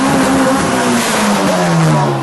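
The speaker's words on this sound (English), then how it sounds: "This thing revs to the moon." A Honda car engine revs hard and loud close by, a continuous roaring note with shifting pitch as the throttle is held open.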